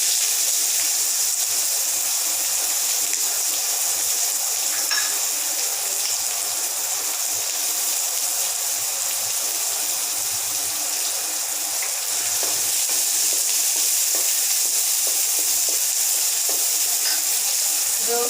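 Cumin and onions fry in hot oil in a pan for malai pasta, giving a steady, bright, continuous sizzle that stays loud and even throughout with no talking.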